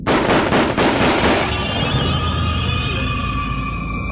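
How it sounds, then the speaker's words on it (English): Gunshots ring out from a schoolhouse: a burst of loud, rapid reports in the first second and a half, then a long, fading reverberant tail. "A short time later, gunshots ring out from the schoolhouse."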